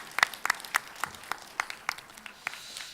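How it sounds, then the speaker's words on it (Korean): A church congregation at a Korean praise worship service claps in a loose, rhythmic pattern, sharp individual claps roughly every quarter second, fairly quiet and steady throughout. "다시 한번 우리 하나님 영광의 박수 올리겠습니다"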